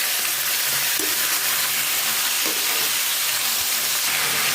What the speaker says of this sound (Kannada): ಈಗ ಕಟ್ ಮಾಡಿ ತೊಳೆದು ಇಟ್ಕೊಂಡಿರೋಂಥ ಲಿವರ್ ಹಾಗೆ ಗುಂಡ್ಗೆನ ಹಾಕ್ತಾ ಇದ್ದೀನಿ. ಹಾಕಿ ಚೆನ್ನಾಗಿ ಮಿಕ್ಸ್ ಮಾಡಿ